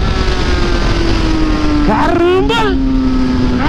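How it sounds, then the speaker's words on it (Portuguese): A powerful Yamaha Fazer 600 motorcycle engine roars steadily up close, with a rising rev and shifting pitch partway through, a man exclaiming over it. "Que moto forte, tio. Que moto bruta."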